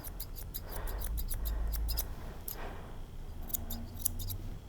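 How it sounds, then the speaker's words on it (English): Grooming scissors snip in quick clusters of sharp, close metallic clicks while trimming hair on a dog's feet and hock area, with short pauses between bursts and no talking. "using the tips of our scissors again, just coming up that hock area"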